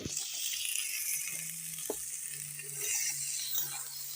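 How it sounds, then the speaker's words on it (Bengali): Eggplant frying in oil tempered with black cumin seeds makes a soft, steady hiss, with a few faint knocks and stirring sounds and no talk over it. "কালো জিরে ফোড়নে দিয়ে আমি বেগুনটা দিয়ে দিলাম"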